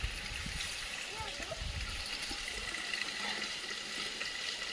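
Water runs steadily from a tap in a continuous hiss, while a voice speaks briefly over it.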